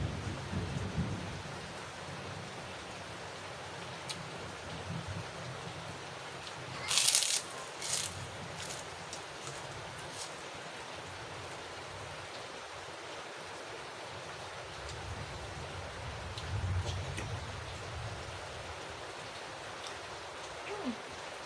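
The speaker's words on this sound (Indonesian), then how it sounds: "Pas banget, cuacanya tuh lagi hujan deras banget guys di sini." Heavy rain pours down steadily in a constant wash of noise, with a loud burst of thunder or crackling impact partway through and a few quieter swells, with no voices heard.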